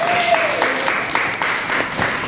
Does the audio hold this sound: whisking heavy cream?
no